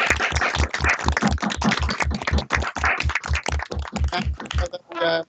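Rapid, steady handclaps ring out close and loud for about five seconds, a small online audience applauding at the end of a lecture, with a brief voice breaking in as the clapping stops.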